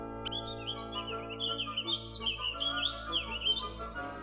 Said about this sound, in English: they heard a chirp